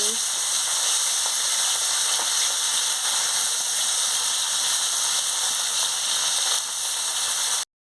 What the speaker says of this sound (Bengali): তেল গরম হয়ে গেছে আমি মাছটা দিয়ে দিচ্ছি মাছটা দিয়ে ভালো করে একটু ভেজে নিচ্ছি